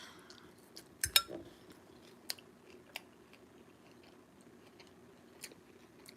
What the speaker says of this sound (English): Y'all know I'm trying to chew.